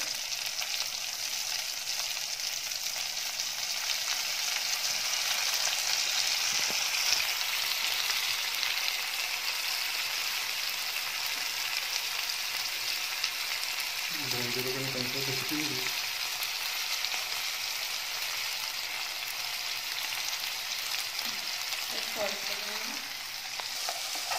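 Dried fish sizzles and fries steadily in tomato paste, a continuous crackling hiss with occasional stirring scrapes and no talking.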